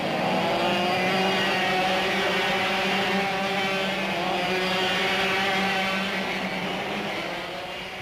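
Racing kart engines drone loudly and continuously during a kart race, a dense buzzing whine of several karts close by that fades slightly toward the end.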